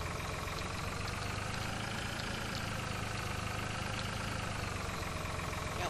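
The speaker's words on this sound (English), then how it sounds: "let's hop back in the tractor" A small tractor idles in Farming Simulator 2013, a steady, even mechanical drone that holds unbroken and moderately loud throughout, with no talk over it.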